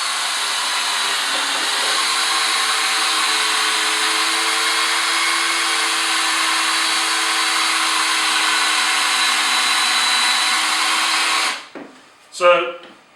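Hitachi 18V combi drill driving big screws into wood, a steady high whirring motor run lasting about eleven seconds before stopping, close and loud, with a brief voice after it ends.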